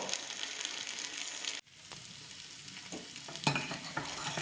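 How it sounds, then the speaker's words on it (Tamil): An appam cooks on a pan with a steady sizzle and frying hiss while it is flipped over. There are soft scraping and stirring noises, a brief hush partway through, then a sharp scrape-clack as the pan is handled again. "இந்த ஆப்பம் ஒன் சைடு வெந்துருச்சு இதை நாம் அப்படியே திருப்பி விட்டுடலாம் இன்னொரு சைடும் நல்லா வேகட்டும்"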